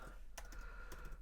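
Quiet typing on a computer keyboard while entering an app name, a few light, irregular key clicks over soft background hiss.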